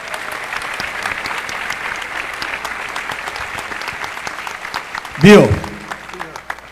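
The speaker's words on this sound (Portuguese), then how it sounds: "gostaria que vocês dessem uma salva de palmas para o Paulo" An audience at the opening ceremony of the Freemind 2019 congress claps steadily, a broad round of applause; someone speaks briefly over it near the end with a loud burst close to the microphone.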